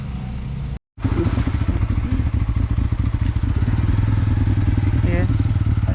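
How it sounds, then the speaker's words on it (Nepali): A motorcycle labours up a hill on a trail from Sankhu toward Tindhare, its engine droning loud and close with a steady throb throughout after a brief dropout near the start, voices faint beneath it. "बाइक चढ्छ नि हेर्नुपर्छ"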